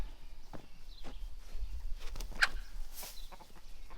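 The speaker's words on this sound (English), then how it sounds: "Hey, chickens." Chickens cluck softly on a farm, with a few faint scattered clucks and a brief sharper call amid rustling and footstep-like shuffling nearby.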